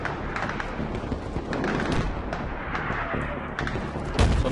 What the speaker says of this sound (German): explodiert alles